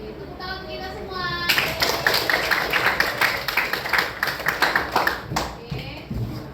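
A group clapping hands together in a classroom-style session, preceded by a brief tonal sound, then a sustained burst of loud, fairly close applause that tapers near the end.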